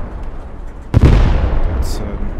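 A vehicle blows up in the World War II game Post Scriptum: a sudden heavy blast about a second in, followed by a rolling, rumbling decay and scattered debris.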